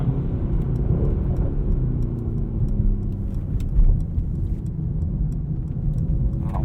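A 2020 Mercedes-AMG GT 63 S pulls up a highway on-ramp, its engine a loud, close, deep rumble with rising tone under steady road and tyre noise, no voices.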